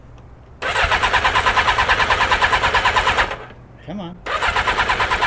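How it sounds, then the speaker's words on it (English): Yamaha XJ600 motorcycle engine cranking on choke, a loud rapid rhythmic starter churn that runs for about three seconds, pauses briefly as a voice speaks, then resumes. "Time to find out if the XJ is gonna start."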